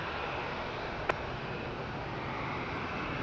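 A LATAM airliner flying from Madrid to Santiago de Chile at Madeira Airport, a steady broad roar of jet engines heard from a distance, with a brief sharp click partway through.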